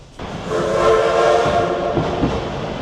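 An Oigawa Railway train on a Thomas-themed excursion rolls through a small rural station, a steady, loud rumble of wheels and carriages with a tonal whine riding on top, building quickly and holding for a few seconds.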